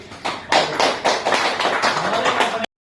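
An audience claps at a DXN office program in Qatar, a dense burst of hand applause swelling quickly and then carrying on steadily for a couple of seconds before stopping abruptly.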